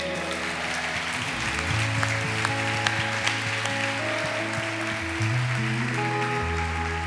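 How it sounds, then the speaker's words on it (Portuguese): A church congregation claps along during worship, steady applause over sustained organ or keyboard chords that shift pitch, with a few sharper claps standing out. "podemos aplaudir o Rei"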